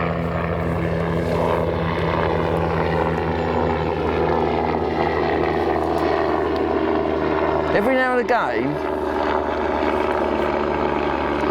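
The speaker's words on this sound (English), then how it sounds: "Into a fish while the helicopter goes over." A helicopter passes overhead above a commercial carp fishery, its steady loud rotor drone filling the scene and peaking as it crosses, with someone talking over it.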